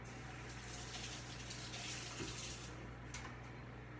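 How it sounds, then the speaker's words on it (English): Hands being washed under a running kitchen tap: a steady, quiet rush of flowing water with light splashing, low in level and continuous throughout. "Let me wash my hands and we'll get started."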